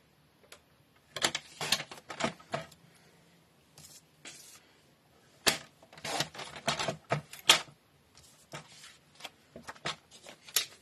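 Photo trimmed on a paper cutter while making a scrapbook page, heard as a run of dry ticking and clattering cuts and slides in uneven clusters, close and fairly quiet, with no talk.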